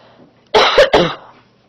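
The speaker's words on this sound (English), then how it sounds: "Sorry, I got a cough." A single short burst of coughing, two or three harsh close-up hacks in quick succession, with quiet room tone before and after.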